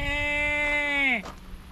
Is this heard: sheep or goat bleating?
yes